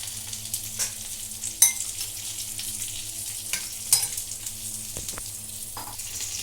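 Steady sizzling of brinjal frying over high flame in a pan with about a spoon of oil, with occasional clinks and scrapes of stirring over the hiss.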